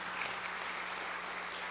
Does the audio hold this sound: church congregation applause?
yes